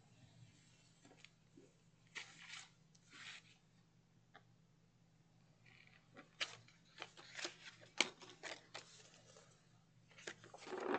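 Scissors trimming excess paper for a small dollar-store notepad craft, with scattered quiet snips and paper rustles close to the mic, irregular and soft with pauses between cuts.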